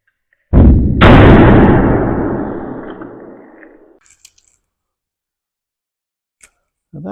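A glue puller snaps off a dent on a car panel with a loud sudden crack and a rumbling decay that fades over about three seconds, followed by faint clicks and a brief noise at the end.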